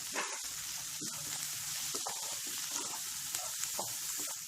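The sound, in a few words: garlic, ginger and mint leaves frying in pan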